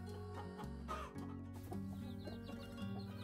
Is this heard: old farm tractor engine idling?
no